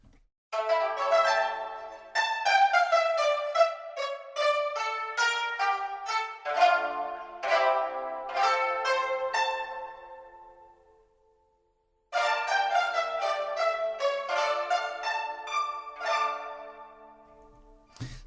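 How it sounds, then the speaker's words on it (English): Several pipa players play together in an ensemble, with rapid tremolo plucking and bright, dense phrases. The music fades to silence, then returns with another lively passage, and no voices are heard. "So that's an ensemble, so it's multiple pipa players playing together."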